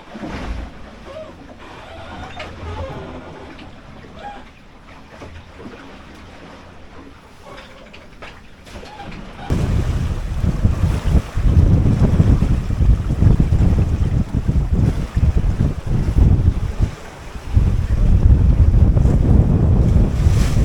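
Strong wind buffets a 21-foot sailboat on a blustery day while waves slosh against the hull, with wind noise on the microphone that grows markedly louder and rougher partway through and stays heavy to the end.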